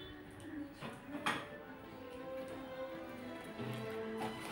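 Plates and spoons clink and knock in short, scattered bursts as food is served at a home wedding arrangement, a few sharper clatters standing out over a steady low background.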